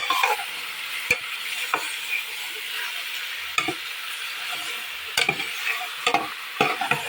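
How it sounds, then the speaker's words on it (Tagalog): Duck meat sizzles steadily in a pan over high heat, with periodic scraping and clacking of a utensil stirring it; no voices. "Igigisa lamang po natin to para matanggal po yung lansa."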